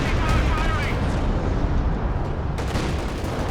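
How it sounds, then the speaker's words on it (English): Heavy B4 howitzer shells landing in a Company of Heroes 2 match, a dense rumbling barrage of booms under continuous game noise, with a fresh sharp impact near the end. "The B4 slamming down though."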